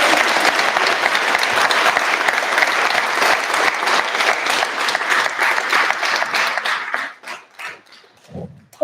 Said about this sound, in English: let's give a round of applause for our VPOPs candidate